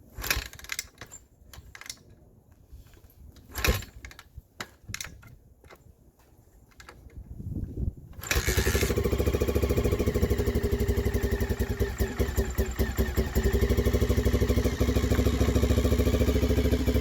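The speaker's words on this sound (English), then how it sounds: "let's see if this thing fires up and if it still has some noise." Honda XR600R single-cylinder dirt bike being kick-started: several sharp mechanical kicks and clunks, then the engine catches and settles into a loud, steady idle that runs to the end.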